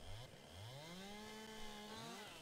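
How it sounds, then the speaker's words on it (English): A chainsaw in Farming Simulator 22 cuts through a pine tree, its engine revving up and settling in repeated rising sweeps at a fairly faint level, with no talk over it. "Alright, put the chainsaw away."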